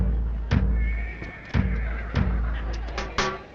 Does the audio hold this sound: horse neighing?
yes